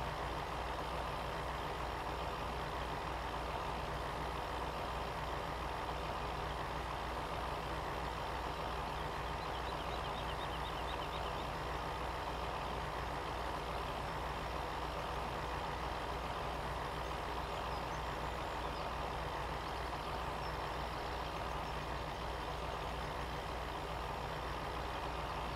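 A tractor engine runs steadily in Farming Simulator 17, a constant loud drone with no breaks, without any speech over it.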